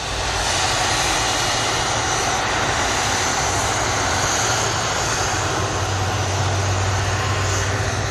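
A Boeing Dreamliner arriving from Montego Bay lands at Manchester Airport, its jet engines giving a loud, steady, broad roar that holds throughout without pause or voices.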